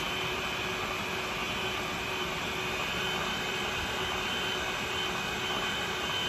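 A Pro-Cut on-car brake lathe runs at a steady pace, giving a continuous, close, even mechanical hum and whine with no pauses and no talking.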